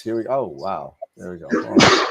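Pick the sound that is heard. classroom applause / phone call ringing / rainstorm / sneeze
sneeze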